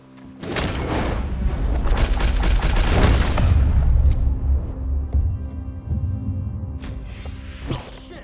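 Loud gunfire in Red Dead Redemption II during a safe robbery, a rapid burst of booming shots with a heavy rumbling tail, then a few scattered sharper shots near the end, with no talking.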